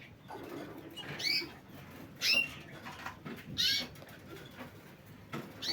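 Caged canaries give short, bright chirps in scattered bursts every second or so, fairly faint against a soft rustling background of movement in the cage.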